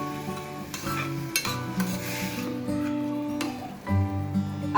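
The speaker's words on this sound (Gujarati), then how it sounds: "આ બધું આપણે ધીમા તાપે જ સાંતળવાનું છે" Mixed vegetables for vegetable rice sauté on low heat while a utensil stirs them, giving scraping clinks over a gentle sizzle, with steady tonal background music throughout.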